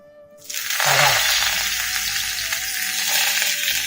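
Fresh green curry leaves hit hot oil in a pan for a curry leaves kuzhambu, bursting into a loud, steady crackling sizzle that swells suddenly and keeps hissing close up without pause.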